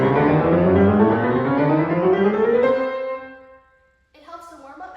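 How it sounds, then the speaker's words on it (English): Piano chromatic scale rising steadily in quick even steps, close and clear, fading out, with a brief pause before a few higher notes come in near the end. "One of my favorite exercises to do when practicing is chromatic scales,"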